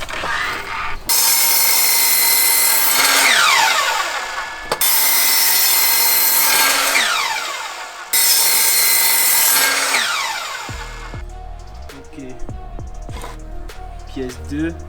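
Wooden armrests of a garden bench being sawn in three long, loud bursts of steady rasping strokes, each separated by a brief pause, followed by softer clattering and handling of the wood.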